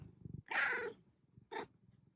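A cat gives two meows: a long, loud drawn-out cry, a pause, then a shorter one, close by over a low background rumble.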